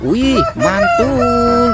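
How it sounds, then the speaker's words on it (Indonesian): A loud rooster crow from a toy, bright and electronic-sounding, repeated twice in quick succession, with a brief spoken exclamation in Indonesian near the start. "Ada ayam berkokok."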